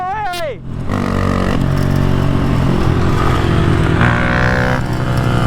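Razor RSF 6000w electric bike pulling a wheelie, a loud close whine and rumble with clattering that starts after a short shout and holds steady, with a rising whine near the end.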